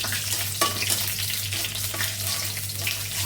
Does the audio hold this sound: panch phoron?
yes